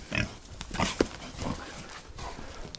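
Piglets squeal and grunt in a farmyard pen while being herded inside, giving a series of short, moderately loud calls with shuffling between them.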